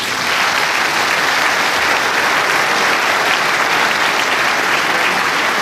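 A hall audience at a French New Year's wishes ceremony applauds steadily and loudly, a dense, even wash of many hands clapping that holds for the whole stretch without talk.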